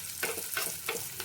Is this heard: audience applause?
no